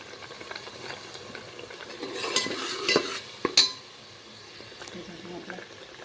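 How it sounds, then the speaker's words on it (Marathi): Masala roasting in a pan for crab curry, stirred with a metal spoon that scrapes and clinks loudly in the middle over a soft sizzle, with someone speaking at times. "आता मी चांगला छान भाजून घेतो बघा"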